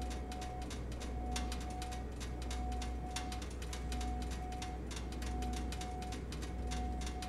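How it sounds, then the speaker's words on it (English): Steady low engine hum with a faint high whine, broken by repeated clicking and ticking sounds, like engines winding down and cooling: a Flysimware Cessna 414AW's engines cooling in Microsoft Flight Simulator 2020 on Xbox Series X. "Listen to the engines cooling down."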